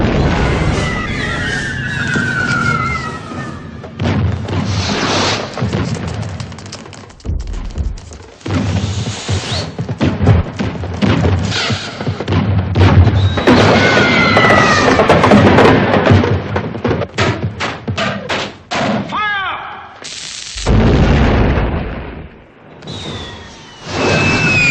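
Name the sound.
fireworks shot off in Mary Poppins film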